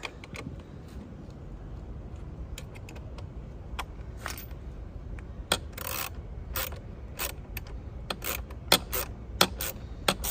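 Hand tools click and ratchet while a nut is snugged during an LED wheel light install on a Can-Am Ryker 900 Sport, with sharp metallic taps and ratchet bursts over a faint background hum.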